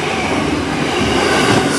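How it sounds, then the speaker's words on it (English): A huge, very fast freight train roars past close by, a loud, continuous broadband rumble and rush that holds steady for the whole stretch with no voices. "huge freight train passing right now"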